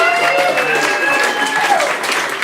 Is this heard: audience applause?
yes